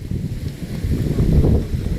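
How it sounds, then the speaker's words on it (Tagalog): Strong wind blows across Manila Bay, buffeting the microphone with a steady low rumble and gusty roar that rises slightly toward the middle, with no one talking. "Lakas ang hangin."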